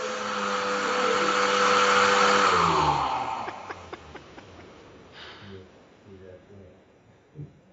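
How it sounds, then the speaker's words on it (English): A Hoover vacuum cleaner drones loudly with a steady whine, then its pitch drops as it winds down and stops, leaving only faint scattered knocks afterward. "that's definitely a Hoover. Someone's hoovering."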